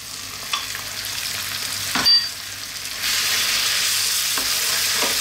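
Lamb pieces frying with onions and a garlic-ginger paste for a lamb dopiaza curry give a steady, close sizzle that jumps louder partway through, with a few clinks of stirring and no talk.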